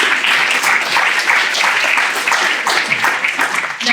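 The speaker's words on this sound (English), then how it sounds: "Can we get another round of applause, please, for our three speakers?" Audience applause at a panel discussion on Norooz, the Persian New Year, a dense, loud, steady wash of clapping from a full room for the three speakers.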